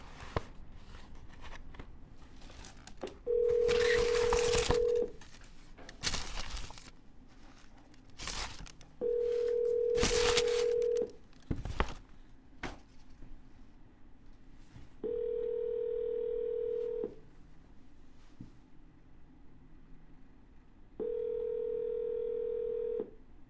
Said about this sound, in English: And double dial.